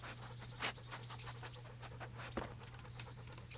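A dog in the video game Kingdom Come: Deliverance pants quietly in short, steady breaths, with a faint low hum running underneath and no voices.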